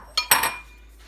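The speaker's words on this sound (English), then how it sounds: "While I'm stirring this, and I have to wait for a little bit." Pancake batter being stirred in a bowl, with a couple of quick, close clinks of a utensil against the bowl before it falls quiet.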